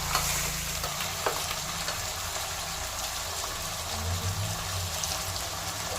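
A chicken mixture for mqluba is stirred in a pot over a continuous frying sizzle, with a few utensil scrapes against the pot and a low rumble underneath, heard close up without talk.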